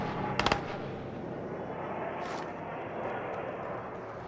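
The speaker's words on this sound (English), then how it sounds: "Yeah, helicopter." Helicopter in Call of Duty Warzone, a continuous rumbling rotor drone filling the scene, with a quick cluster of sharp gunshot-like cracks near the start.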